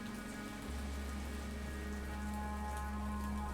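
Steady rain pours down in an outdoor cemetery, a dense continuous hiss with a low hum beneath, fairly close and unbroken, with no voices.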